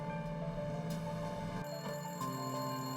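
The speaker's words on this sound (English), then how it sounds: "The phone was already ringing when he arrived." A telephone rings in a steady electronic tone that carries through the whole stretch, with no voices over it.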